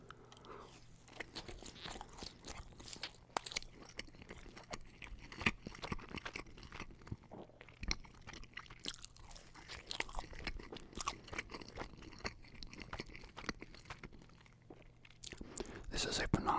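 Papa John's cheese bread is chewed close to the mic, with repeated crisp crunches and bites at an irregular rhythm and faint whispering between them.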